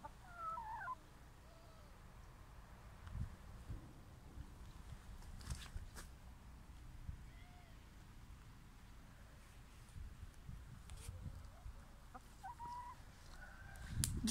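Hens of several colors, red, grey and black, clucking sporadically in a quiet yard, soft and somewhat distant, with scattered short calls and light bumps spread across a low, calm background.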